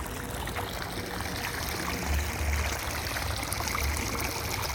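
Irrigation water flows on a farm with a soft, continuous rushing trickle, faint and steady, with no one talking over it.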